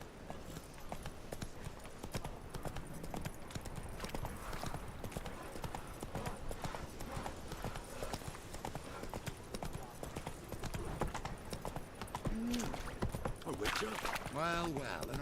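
Roach, Geralt's horse in The Witcher 3, walks along with steady, close clip-clopping hooves throughout, joined near the end by a brief snort or whinny.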